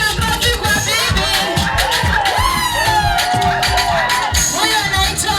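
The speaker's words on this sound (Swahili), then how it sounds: "Jamani, makofi kwa bibi." Wedding guests burst into loud, sustained cheering, whooping and shrill ululating cries over steady clapping, a dense, lively crowd roar that holds for several seconds with voices mixed in.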